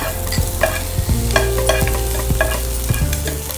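Ginger garlic paste fries in a pan while being stirred. A close, steady sizzle carries sharp scraping and clinking strokes of a utensil against the pan at an irregular rhythm, with no voices.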